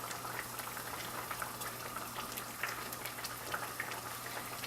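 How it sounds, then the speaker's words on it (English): Pork medallions simmer in a pan of marsala sauce, a steady, quiet bubbling with scattered small pops and crackles throughout, close and continuous with no talking. "It's bubbling away here."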